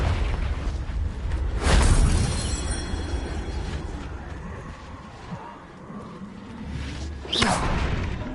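A Confringo blasting spell in Hogwarts Legacy, a whooshing fiery burst with a heavy boom early on, then rumbling combat and a second whoosh-blast near the end.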